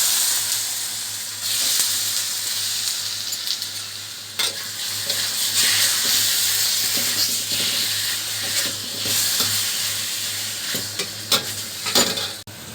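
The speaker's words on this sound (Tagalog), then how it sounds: "Ito, maglalagay ako ng asukal na white. Ayan, pwede nang ilagay yung spare ribs." Spare ribs sizzle and fry in caramelized white sugar in a pan, a steady loud hiss with occasional stirring scrapes and pops throughout.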